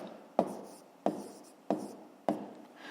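A pen strikes and scratches across paper in four evenly spaced strokes, each with a sharp tap and a fading scrape, close and quiet, while someone works a fifth-grade maths exercise.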